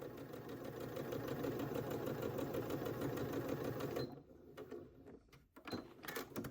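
A sewing machine runs a steady whirring stitch along a dress bodice seam for about four seconds, then stops. Soft handling clicks and fabric rustles follow.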